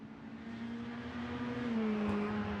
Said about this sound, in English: Bryce Thomas exiting pit road onto the track.